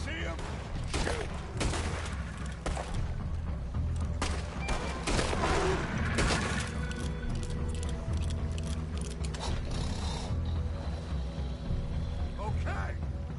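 Rapid bursts of gunfire in the Red Dead Redemption 2 video game, a dense run of loud shots and fusillades in the first half that thins toward the end, with voices talking over it.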